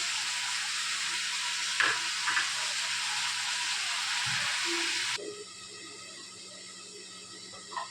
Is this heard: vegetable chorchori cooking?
yes